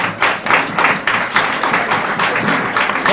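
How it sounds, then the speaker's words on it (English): An audience at a school quiz competition claps steadily for a few seconds, a close, uneven patter of many hands with no talking. "A round of applause."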